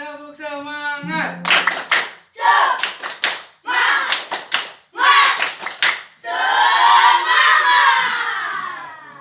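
Schoolchildren repeat a rhythmic clapping cheer, short clustered bursts of claps with shouted calls, ending in a sustained loud group shout; a brief tonal sound precedes the first claps.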